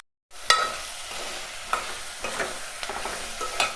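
Dal ingredients sizzle in hot oil in a pan while a spoon stirs them, bringing repeated scraping strokes over a continuous close frying hiss after a brief silent start.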